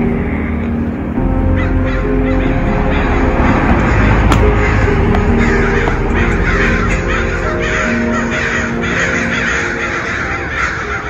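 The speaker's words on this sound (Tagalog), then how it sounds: "Oh, a lot of birds out there." Crows caw over and over in a wooded stretch of Rosicrucian Park, a loud, dense chorus of calls that carries on for the whole stretch without letup.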